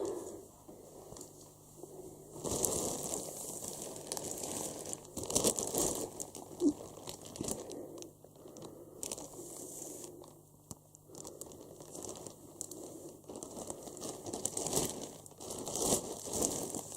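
Close paper packaging crinkles and rustles in repeated bursts while a large sitting wolf plush is unpacked, with soft handling noises between the louder crumpling spells.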